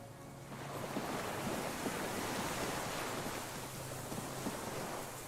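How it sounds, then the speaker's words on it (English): Distant cargo ships and signal horns over water in the Disco Elysium video game: a faint low drone hangs beneath a steady wash of waves and wind. "The distant sound of cargo ships. Signal horns echo on the water."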